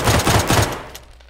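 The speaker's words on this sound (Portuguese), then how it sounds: "Atirando assim, eu tenho a esperança que a bala tá aqui, vai uma ou outra lá no outro portão." Rapid automatic gunfire in the survival video game DayZ during a base raid on a house: a loud, fast burst of shots over about a second, then a brief tail and fade.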